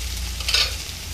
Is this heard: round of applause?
no